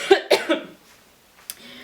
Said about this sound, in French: j'ai une toux qui veut pas partir